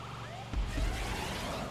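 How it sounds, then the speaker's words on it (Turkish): An ambulance siren in the GTA 5 video game wails steadily over engine and driving noise, with a few thumps partway through. "Uçan ambulans yolda."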